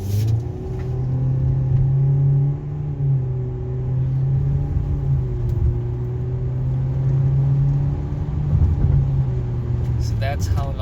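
Mitsubishi Eclipse Cross engine droning steadily as the car accelerates toward 100 km/h, a loud, continuous low hum with rising and falling harmonics under road rumble inside the cabin.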